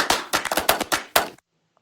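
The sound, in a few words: cashmere clap loop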